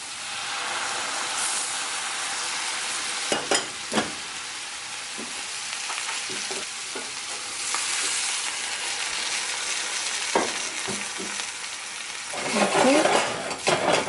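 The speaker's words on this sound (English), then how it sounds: "add a bit of water to this and cover it and let it steam." Vegetables steam and sizzle in a covered pan with a steady hiss, broken by a few sharp clinks of a lid or utensil.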